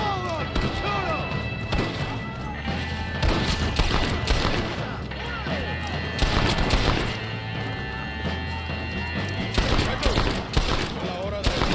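A sustained Red Dead Redemption shootout at a mansion, with dense overlapping gunshots and bursts cracking continuously, punctuated by louder blasts, while characters shout throughout in Spanish and English.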